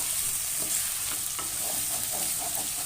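Spinach and paneer masala for palak paneer fries in a pan with a steady, bright sizzle, broken by a few soft scrapes of stirring, close up and with no talking.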